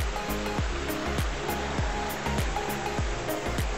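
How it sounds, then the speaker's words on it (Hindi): A hidden forest waterfall gives a steady, broad rush of falling water. A lower rhythmic pulsing and thudding sits underneath, likely from the recorder moving along the trail. "जितना आगे जाते जा रहे हैं उतना झरना का तेज बहुत ज्यादा है।"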